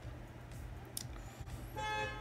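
A car horn sounds outside, a brief muffled toot near the end over a low rumbling room background, distant and fairly faint.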